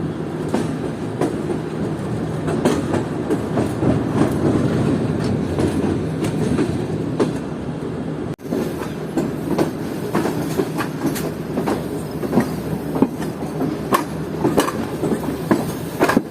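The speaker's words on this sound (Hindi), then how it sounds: "हमारी ट्रेन पहुंच रही है कोठी जंक्शन रेलवे स्टेशन के प्लेटफॉर्म नंबर 2 पर" A sleeper train of Pakistan Railways rolls toward Kothi Junction station, with a steady loud rumble and a rhythmic clickety-clack of wheels over rail joints that continues throughout and has no talk.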